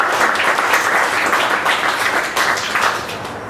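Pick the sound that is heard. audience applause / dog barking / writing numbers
audience applause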